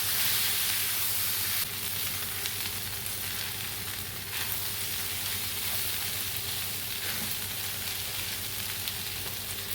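Minced meat and colored bell peppers sautéing in a pan, a continuous dense sizzle and hiss with occasional stirring scrapes, close and steady.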